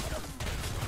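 Dense gunfire crackles in the shooter Homefront, a continuous close fusillade of overlapping shots filling a brief moment.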